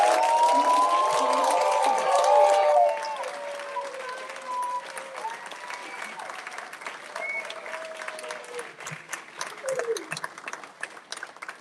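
A graduation-ceremony audience at Valley New School applauds its 2026 graduates: a dense, loud burst of clapping that fades to lighter, scattered claps, with cheering and voices mixed in.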